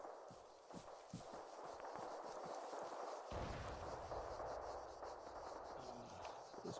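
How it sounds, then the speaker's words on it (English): Distant machine gun fire pounding a town in the Arma military video game: a steady, dense roar of battle with repeated muffled bursts and thumps throughout, no voices. "So each of these machine guns are ripping shit into town."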